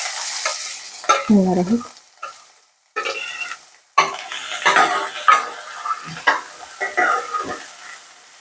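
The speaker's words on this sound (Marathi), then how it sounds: "कांदा छान गुलाबी रंगावर येईपर्यंत परतायचा आहे" Onion being stirred and sautéed in a pan with mustard seeds, curry leaves and green chilli for barnyard millet upma: sizzling frying with repeated scraping stirs, close and fairly loud, with brief speech at the start and end.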